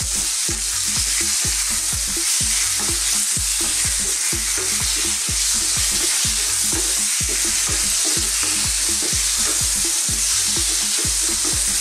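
Chopped chicken breast fries with garlic in a pan for Filipino chicken empanada filling, a loud steady sizzle under a rapid, regular rhythm of spatula stirring strokes, with no talking.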